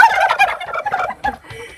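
Turkeys gobble loudly and close by, several rapid, warbling calls tumbling over one another for the whole stretch.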